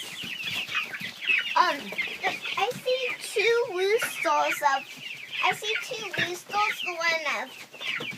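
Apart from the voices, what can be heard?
chickens clucking, roosters and a hen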